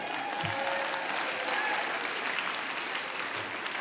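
Audience clapping at a Bioneers talk on forest canopy science, a soft, steady wash of many hands heard from a distance, fairly quiet and even throughout.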